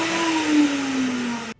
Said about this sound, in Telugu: 1 కప్పు వేపిన శనగపప్పు మిక్సీ జార్లో వేసుకొని పౌడర్ చేసుకొని జల్లించుకుందాము.